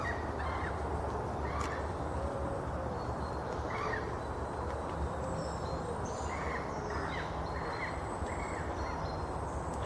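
Birds call repeatedly during a morning walk over damp ground, short chirps and squawks scattered over a steady outdoor background.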